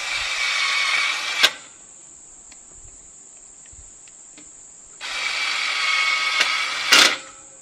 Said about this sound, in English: take the other small screws provided and lock these off.